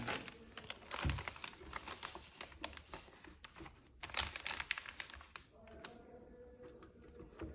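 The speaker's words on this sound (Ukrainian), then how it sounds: "вакуумний пакет, кладемо наші продукти, піднімаємо каретку." A plastic vacuum bag crinkles and rustles as food is loaded into a Triniti DZ-260D vacuum sealer, with close, irregular crackling bursts and small clicks of handling.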